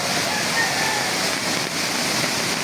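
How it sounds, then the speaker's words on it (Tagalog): A swollen river rushes loudly during flooding in Barangay Lago, Glan, Sarangani, a dense, steady roar of water that fills the whole moment without letting up. "nakadako mayo ang sapa"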